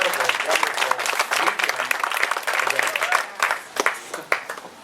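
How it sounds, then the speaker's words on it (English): Wedding guests give a burst of clapping that swells and fades in uneven waves, and a voice talks over part of it. "Let's have a round of applause for everybody that has participated in this incredible, wonderful"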